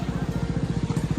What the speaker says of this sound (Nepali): अगाडि बाइक आइरहेछ